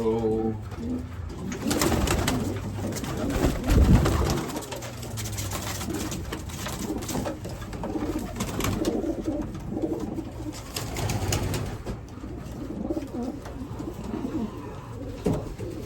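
Racing pigeons coo in a loft, a steady low murmur of several birds with scattered wing flutters and shuffling, fairly close and continuous throughout.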